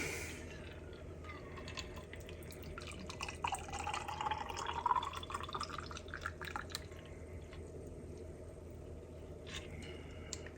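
Bloody Mary mix poured from a shaker into a glass, a steady liquid trickle that swells in the middle and then tapers off, close and moderately quiet, with no talking.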